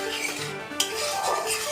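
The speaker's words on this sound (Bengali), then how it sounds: "এবার এইটা দিয়ে একটু নাড়ব।" A utensil stirs spices and sugar in a hot pan while cooking raw jackfruit curry, giving a brief scraping clink against the metal over a low sizzle.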